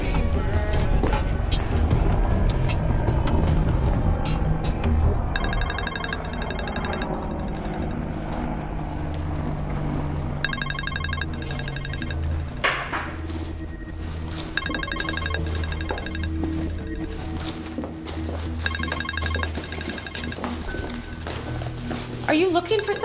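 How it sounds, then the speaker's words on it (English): Music plays from a personal mobile phone as a ringtone, with a bright chiming figure that repeats in regular bursts over a steady, fairly loud musical bed, with no one talking. "it's music coming from my personal phone"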